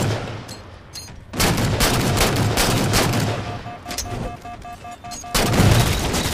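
Grenade blast and bursts of gunfire from a Halo 4 multiplayer match, loud and close, with sharp repeated shots, a heavy boom partway through and a second thump near the end, all continuous and dense.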